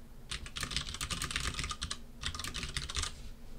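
Rapid clicking of computer keys as code is typed into a lecture folder, two bursts of steady keystrokes separated by a short pause, close and clear with no talking.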